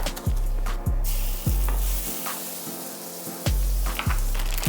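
Tortilla frying in butter in a hot pan, a steady close sizzle broken by repeated scraping thumps of a utensil at a regular pace, no voices.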